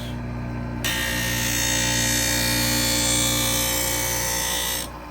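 A Wissota 911 skate sharpener set to a 1/2 inch radius of hollow grinds a single pass along a carbon steel blade at an ice rink, a steady close, loud rasping hiss that starts abruptly, holds for about four seconds and then cuts off over a constant motor hum.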